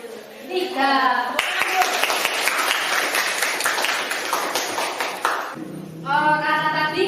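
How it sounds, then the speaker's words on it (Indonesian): Students in a classroom clapping for presenting groups, a burst of loud, dense applause lasting several seconds, framed by a teacher's voice speaking before and after. "Tepuk tangan untuk kelompok 1 dan kelompok"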